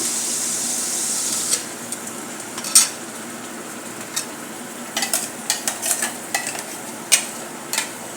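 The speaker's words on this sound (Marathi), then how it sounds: "आता यामध्ये आपण घालणार आहोत वाटण" Ground masala paste frying in hot oil for a crab curry, a faint steady hiss broken by scattered sharp clinks and scrapes of a spoon against the pan, some in quick bursts, no speech.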